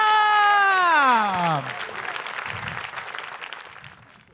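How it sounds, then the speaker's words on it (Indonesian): Audience applause for comedian Yuda Ilham at a stand-up comedy show, breaking out after a long held tone that slides downward, then continuing as a steady, moderately loud wash of clapping from a crowd. "Sekali lagi boleh tepuk tangan buat Yuda Ilham."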